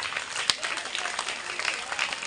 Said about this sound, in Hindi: +2 में 3rd पोजीशन पे क्लैपिंग कर दो सभी।